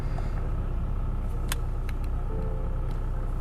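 A Hyundai i20 diesel with a DPF regeneration warning runs just after starting, holding a steady low idle rumble from close by, with a few faint clicks over it and no talking.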